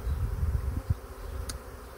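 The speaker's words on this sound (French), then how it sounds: "Mais je dirais qu'il reste 1000 abeilles dehors, grand max." A swarm of honeybees, about a thousand still outside with many massed under a board, buzzes in a steady low drone close by, with a brief higher tone near the end.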